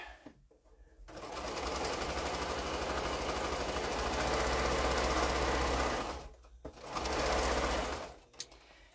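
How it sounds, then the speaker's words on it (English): A sewing machine stitching a quilt block seam runs in two bursts of fast, even mechanical whirring, the first long and steady, the second shorter after a brief pause, close up with no talk. "Just have to flip the block around so I can cut in the right direction, and then sew that seam together"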